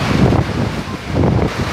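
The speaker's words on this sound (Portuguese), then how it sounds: "Olha o vento." Strong storm wind gusting through city streets during a sudden downpour, a loud, broadband roar buffeting the microphone in two swelling surges with no voices.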